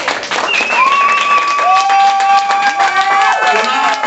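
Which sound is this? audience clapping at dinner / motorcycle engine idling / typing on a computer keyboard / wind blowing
audience clapping at dinner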